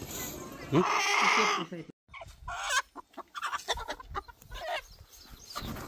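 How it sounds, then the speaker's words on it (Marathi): Chickens, tied up and carried in a Bolero vehicle to market, cluck and squawk close by, a loud agitated burst at first, then continued clucking mixed with engine rumble and someone talking. "आपल्या बोलेरो गाडीमध्येच ह्या कोंबड्या घेऊन चाललोय"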